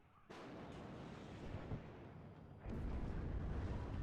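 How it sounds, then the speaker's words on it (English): Mortar fire in the WARNO wartime strategy game, heavy booming artillery blasts rolling into a sustained rumble, with a second louder barrage striking partway through. "these mortars, highly annoying"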